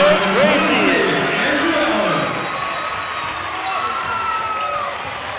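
A high school basketball crowd roars and cheers after a score, loud and sustained in a gym, with shouts and whoops mixed in and a play-by-play voice talking over it.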